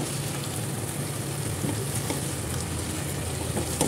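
Potatoes and cauliflower sizzle steadily in a pan of spiced aloo gobhi, a dense, even crackle of frying held close with no talk over it.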